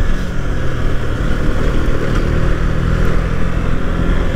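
A Bajaj Dominar 390 motorcycle engine drones steadily while riding on the road between Pokhara and Kathmandu, a loud, continuous low rumble mixed with wind noise that holds an even level throughout.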